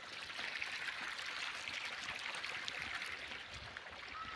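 Irrigation water runs steadily into a sugarcane field, a continuous soft rushing trickle at low level with no voices.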